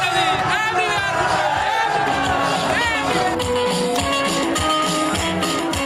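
A dense street crowd in Karachi surrounds Benazir Bhutto's bus, a loud continuous roar of shouting, cheering and whoops, close and unbroken, with a voice talking over it.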